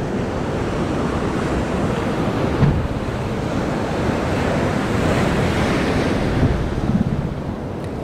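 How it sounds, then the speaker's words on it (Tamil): Waves wash steadily on a calm sea, heard from out on the water while fishing for kingfish, a continuous surging hiss mixed with gusty wind buffeting the microphone. "அமைதியா இருக்கும்போதே பாருங்க எந்த அளவுக்கு வேவ்ஸ் வருது."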